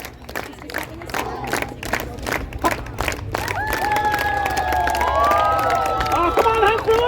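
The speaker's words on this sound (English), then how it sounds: "But sure, clap your hands." A festival crowd at the Muskoka Maple Festival in Huntsville, Ontario claps in a steady rhythm that swells into loud cheering and shouting, with whistles rising over the din and voices mixed throughout.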